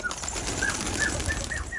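Garip pigeons take flight, fluttering and flapping their wings in a steady rustling burst, with a few soft bird calls mixed in, fairly close.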